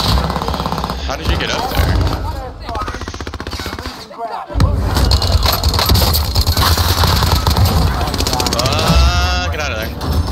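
Rapid video game gunfire rattling in steady bursts throughout, loud and close, mixed with players talking over it.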